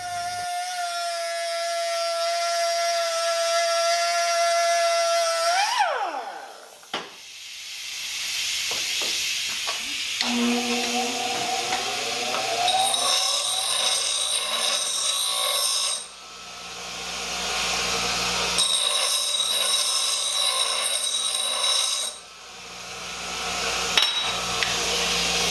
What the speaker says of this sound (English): I'm going to fire up the air compressor and we'll get those cut with the cutoff wheel